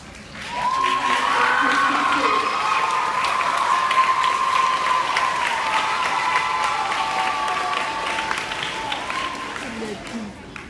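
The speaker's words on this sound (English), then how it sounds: "Let's give one more big round of applause for all of our candidates" An audience applauds the candidates after speeches in a 2014-2015 student Executive Council election, sustained dense clapping with cheering, shouts and a hubbub of voices running for about ten seconds before tapering off.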